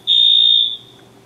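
A building fire alarm sounds one loud, steady high-pitched electronic tone for about three-quarters of a second and then cuts off, with nothing else heard.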